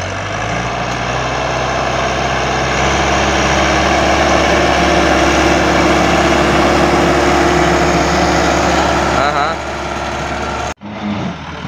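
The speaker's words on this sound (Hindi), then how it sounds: "पूरा भौंदा ट्रैक्टर यार।" A tractor engine runs loud and near in a farm field, a steady low rumble with a faint rise in revs near the end before it cuts off abruptly.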